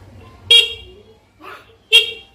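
Original factory horn on a Yamaha Jupiter MX 135LC motorcycle gives two short, loud, bright honks about a second and a half apart, with a fainter blip between them, close up.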